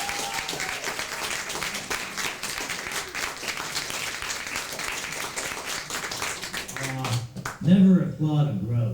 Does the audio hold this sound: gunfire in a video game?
no